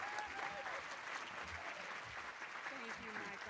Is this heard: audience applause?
yes